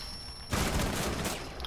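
Gunfire in the tactical shooter Rainbow Six Siege, following a breach charge setup: a sudden loud burst of rapid shots erupts after a quiet half-second and continues as a dense, sustained volley.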